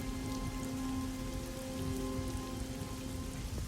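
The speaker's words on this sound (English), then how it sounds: "now it's raining in November." Steady rain falls in the Black Mirror III video game, a continuous dense patter on surfaces with a faint low hum under it, unbroken and even throughout.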